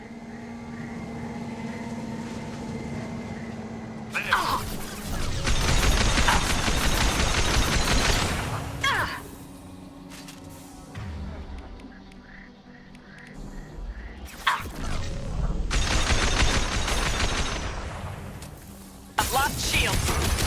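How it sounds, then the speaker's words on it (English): Gunfire from the Mass Effect Legendary Edition video game erupts in two loud, dense bursts of rapid shots with clanking mechanical sounds between them, and a voice talks in the gaps. "I actively hear guns happening."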